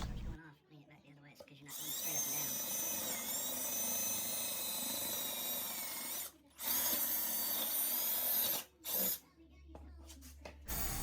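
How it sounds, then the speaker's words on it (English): Power drill boring five holes in a row along a marked line while building a groma, running in long sustained bursts with brief pauses between holes. "I went in and drilled 5 holes down the line in order to make filing easier in the next step."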